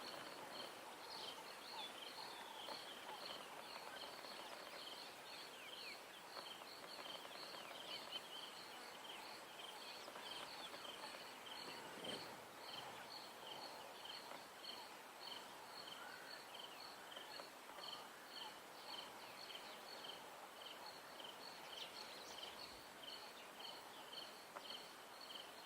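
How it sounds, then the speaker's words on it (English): Frogs and insects trill in a steady, rhythmic pulse throughout at dusk, with faint calls and soft rustling in a quiet outdoor ambience. "You can hear quite a few frogs and insects."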